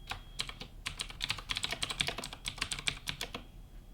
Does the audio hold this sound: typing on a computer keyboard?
yes